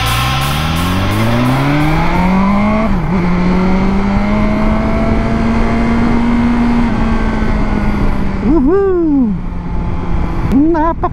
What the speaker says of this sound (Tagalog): Napaka-smooth naman nitong motor na ito.